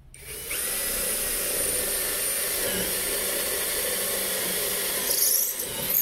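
SfunPro 16V compact cordless drill boring into concrete mixed with blue stone, a steady close-up grinding whine that runs continuously for about five seconds, with no talk.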